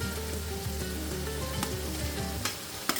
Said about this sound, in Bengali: প্রথমে আলুগুলো দিয়ে দিলাম